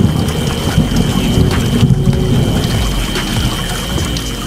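A wind and rain storm roars in a dense, loud wash of pouring rain and gusting noise that holds steady throughout.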